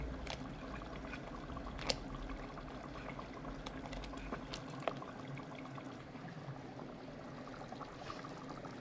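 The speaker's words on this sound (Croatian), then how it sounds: "Kada je voda zakuhala, njoke stavimo da se kuhaju." Pot of water at a rolling boil with homemade gnocchi for a venison dish cooking in it: a steady, soft bubbling hiss with a few small pops, continuous and fairly quiet throughout.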